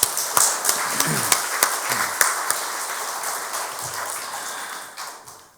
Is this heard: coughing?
no